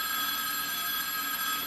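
A telephone rings in a sitcom living room, a steady bright electronic tone held continuously and fairly loud, with no talk over it.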